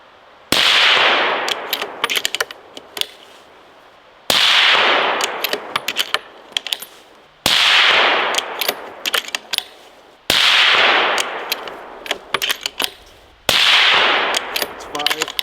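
A bolt-action rifle fires five sharp, loud shots at the range, spaced about three seconds apart, each blast followed by a ringing echo that decays before the next.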